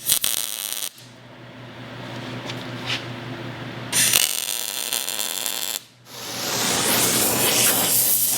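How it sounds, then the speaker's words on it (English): Tack welding on steel suspension control arms in a home shop: bursts of harsh crackling arc sound, the first about a second long, a longer sustained stretch from about one to four seconds, then two more loud bursts, with a steady low hum beneath. "So I'm going to put a couple tack welds here"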